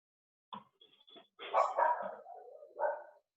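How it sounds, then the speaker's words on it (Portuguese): Dogs bark in a short series of yips and barks, some clipped and some longer and whiny, at moderate distance with quiet gaps between bursts. "meus cachorros estão latindo"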